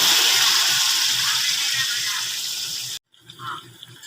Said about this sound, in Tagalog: Lalagyan ko na siya ng tubig. Mainit na tubig nga pala yung nilagay ko para mabilis kumulo.